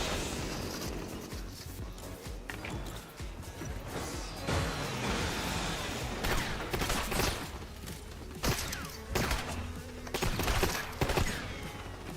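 Dense video-game gunfire aimed at the player, clattering bursts and sharp impact cracks layered over one another, loud and close with uneven rhythm.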